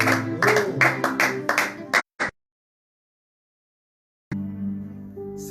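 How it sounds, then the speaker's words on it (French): Congregation clapping for the Lord at a Sunday morning church service: about two seconds of quick rhythmic claps over voices, a sudden silence, then voices return. "Acclamons pour le Seigneur"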